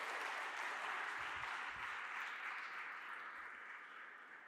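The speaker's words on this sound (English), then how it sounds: "So please join me in applauding my colleagues." Audience applause after a handover speech at a G20 Think20 ceremony in Cape Town, a steady wash of many hands clapping for the full length, moderately distant and slowly tapering toward the end.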